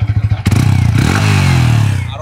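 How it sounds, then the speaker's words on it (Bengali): A Yamaha MT15 V1 motorcycle engine, 21,000 km on it, sputters at idle, then revs up sharply and holds a loud, steady high rev close by before easing slightly. "আর বাইকটার সাউন্ডটা যদি আমি একটু শোনাই"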